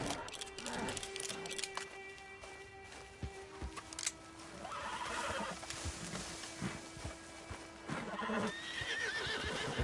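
A horse in the video game Red Dead Redemption Online whinnies and snorts over clip-clopping hooves, fairly close and clear, with game ambience and scattered clicks around it.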